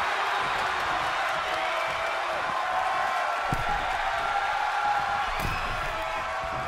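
Arena crowd noise in the WWE 2K23 wrestling video game, a steady broad roar of cheering spectators that holds throughout with faint whoops rising here and there.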